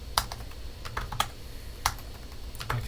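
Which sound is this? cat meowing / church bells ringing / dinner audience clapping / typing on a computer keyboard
typing on a computer keyboard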